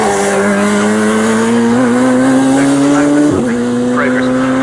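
Radical SR1 race cars at Snetterton roar loudly and continuously, one engine note climbing steadily before a short tyre squeal and downshift near the end, with faint overlapping engines beneath.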